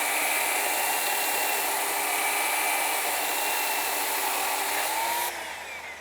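A loud, steady high-pitched electric saw whine runs continuously, then drops off abruptly near the end as the blade slows.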